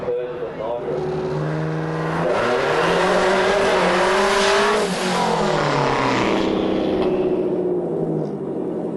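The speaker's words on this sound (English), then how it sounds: "With Vic driving, he purges the nitrous before the burnout." Subaru WRX drag car with nitrous, its engine revving and straining as the tires spin in a burnout, a loud close roar with rising and falling pitch that fades out at the end, with a voice talking over it.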